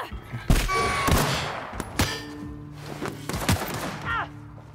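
Gunfire in the sci-fi video game The Outer Worlds: several sharp, loud handgun shots ring out in quick succession, with softer thuds in between and a voice talking faintly underneath.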